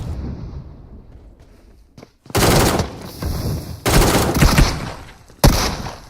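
Automatic rifle fire from ACE and AK-47 rifles in PUBG Mobile ripples out in three loud, dense bursts after a quieter lead-in, each burst a rapid string of broadband cracks with a low rumbling tail and no speech.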